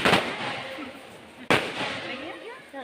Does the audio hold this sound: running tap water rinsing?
no